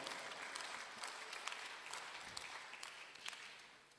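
A church congregation claps during a Sunday service, steady dense applause filling the room throughout, moderately loud with a few sharper claps standing out, no talk over it.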